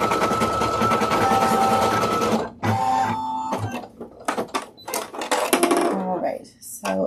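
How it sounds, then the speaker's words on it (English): Embroidery machine stitching a felt mask, giving a dense rapid mechanical chatter that pauses and restarts in short bursts, with a person talking nearby throughout. "Okay, that's got the last stitch of that going."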